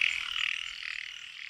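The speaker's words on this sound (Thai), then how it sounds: "กบครับ กบ" Frogs croaking in a rice field after rain, a steady dense chorus of calls holding close and fairly loud through the whole stretch, with no voices over it.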